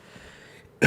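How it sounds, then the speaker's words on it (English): A single sharp cough bursts out loud and close at the very end, after a stretch of quiet room tone. "I just coughed"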